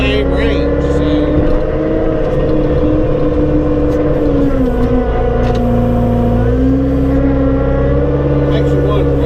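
Small CVT tractor engine revving steadily and loudly close by, a sustained droning hum with shifting pitch as the tires spin; voices talk over the engine throughout.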